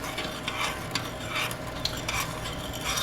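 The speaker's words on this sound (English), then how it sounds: "We're going to give that a mix." A spoon stirring canned cherries with sugar and flour in a pot, soft scraping and sloshing strokes repeating steadily at close range, with no voices.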